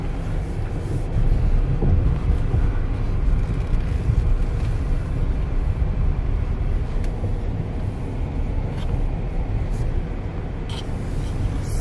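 An all-wheel-drive electric urban SUV drives along a rough, bumpy track, giving a steady low rumble of tires and suspension with occasional knocks and rattles, moderately loud and continuous.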